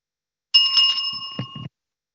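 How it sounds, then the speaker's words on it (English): A small bell is rung a few times in quick succession, its bright, sustained metallic tone close and clear with short rattling strikes near the end, then silence. "you just have to ring the bell there a few times"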